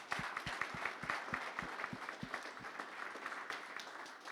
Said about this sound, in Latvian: Maija pelnīs aplausus